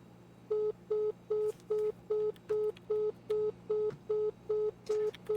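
Phone line beeps in the video game My Winter Car: about a dozen identical short tones repeat at an even, steady pace over a low hum, with no voices.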